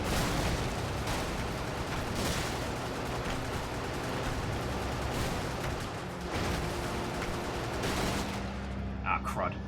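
Mech weapons fire in the Brigador video game, a dense continuous barrage of rapid shots and blasts, loud and unbroken for most of the stretch before fading near the end.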